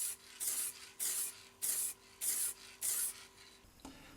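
White spray paint hisses onto a pencil-shaped fishing lure master in five short, even bursts about half a second apart, close and crisp. Quiet pauses separate them, and a soft click comes at the end.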